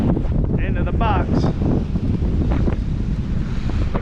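Strong wind roars steadily across the microphone on an Oklahoma lake during crappie fishing, a loud continuous rumble with water sloshing underneath and a voice speaking briefly through it.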